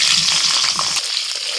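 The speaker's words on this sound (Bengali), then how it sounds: "ওই তেলের মধ্যে দিয়ে দিচ্ছি ক্যাপসিকাম।" Capsicum pieces drop into hot oil and set off a loud, bright sizzle and crackle, with a brief burst of bubbling at the start, then settle into a steady hiss.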